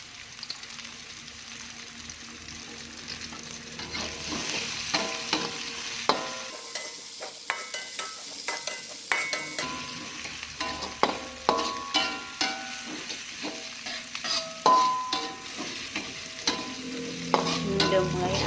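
Chopped chilies stir-fry in a hot pan for a bean sprout dish, giving a steady close sizzle broken by frequent sharp spatula scrapes and clinks against the pan, with no talking.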